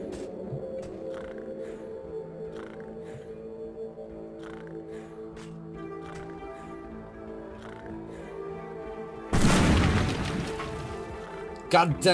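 A TNT dynamite charge blows up in the mining game SteamWorld Dig, a sudden loud broadband blast near the end after steady background music, followed by a brief second burst.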